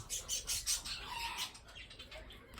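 Chickens cluck and squawk in short repeated bursts, with fluttering noise over a steady outdoor hiss.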